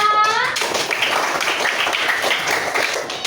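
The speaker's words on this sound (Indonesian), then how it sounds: "berikan tepuk tangan lagi untuk Yajid dan anak-anak ibu semua" Children clap their hands together in a classroom, a dense, steady patter of many small hands that carries evenly for a few seconds without a break.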